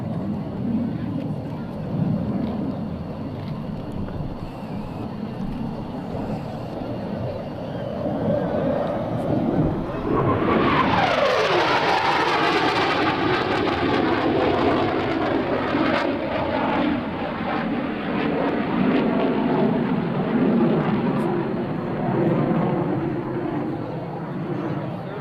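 A U.S. Navy F/A-18C Hornet jet accelerates toward nearly the speed of sound during a pass at the 2004 NAS Oceana airshow. A distant rumble swells into a loud roaring sweep, then sustained jet noise with wind buffeting.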